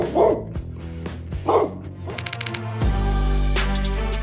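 A guard dog barks in short bursts, two sharp barks followed by a steadier run of yips and whines, close and loud.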